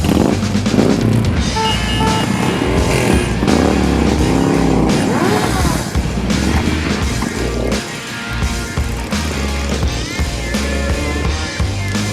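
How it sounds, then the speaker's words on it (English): A group of Harley-Davidson motorcycles rides together, giving a loud, continuous engine rumble with shifting revs and passing bikes heard up close from among the pack. "Can't even hear the gold wings. These goddamn Harleys."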